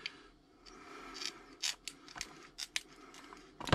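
A knife cuts mussel meat free from the shell in short, crisp scraping and snipping bursts, several in a row, close and fairly quiet, with no talking.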